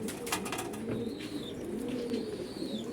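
Fancy pigeons, including Pakistani high flyers and racers, coo softly in a loft of custom-built cages, a low steady murmur with faint thin calls drifting over it and no talking.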